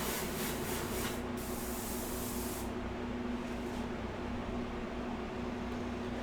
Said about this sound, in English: So I'm going to spray that out.